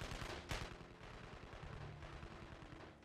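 Gunfire rattles in the Evil Genius video game, a sharp burst followed by continuous distant crackling shots, faint and low in level.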